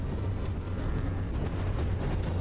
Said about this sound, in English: we got an interior explosion there